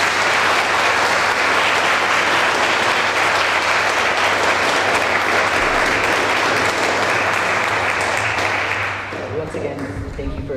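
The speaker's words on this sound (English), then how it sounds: "Please give all our awardees another round of applause." A large audience applauds awardees at a high school JROTC awards and change of command ceremony, with loud, unbroken clapping that holds for about nine seconds before easing off as voices come through.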